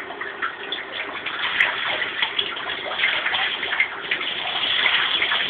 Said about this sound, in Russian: Просто у меня в ванной поломан душ.